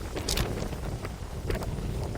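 Strong storm winds in Jhajjar, Haryana, bring lightning and heavy rain. Loud, uneven gusts roar and buffet the microphone in repeated surges.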